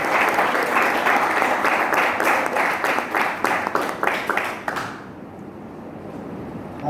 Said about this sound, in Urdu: ایک زوردار تالی یسوع کے جلال کے لیے بجائے۔